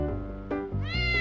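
A cat in the video game Shadowverse gives a short meow over a sustained musical backdrop, one brief rising call ending on a clear tonal note.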